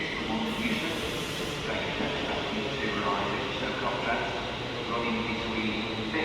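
A London Northwestern Railway train idles at a platform at Stoke-on-Trent station, a continuous broadband rumble and hiss with a brief higher hiss near the start, while voices murmur faintly underneath.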